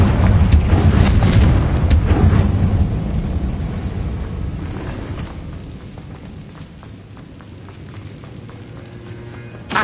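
A Confringo blasting curse goes off in Hogwarts Legacy, a loud deep boom that rumbles and slowly fades over several seconds before a final sharp crack.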